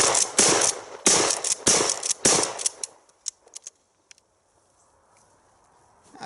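Loud shotgun blasts ring out in a quick series of about six close, sharp reports over three seconds, followed by a few fainter clicks and knocks, then near silence.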